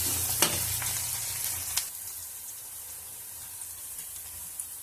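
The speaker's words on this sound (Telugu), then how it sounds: "శుభ్రంగా లైట్ గోల్డెన్ షేడ్ వచ్చేంత వరకు ఇవన్నిటిని బాగా వేయించుకోవాలి." Onions and spices fry in oil in a pan with an even, close hissing sizzle, and a couple of sharp scrapes from stirring come early before the sizzle settles a little quieter.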